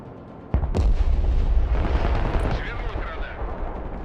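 Heavy gunfire and explosive booms fill a Broken Arrow war game battle, with a sharp blast near the start followed by a dense, rumbling stretch of firing that lingers loud throughout.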